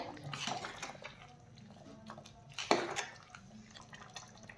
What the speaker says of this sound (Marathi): आणि हे एकदा छान मिसळून घेऊयात.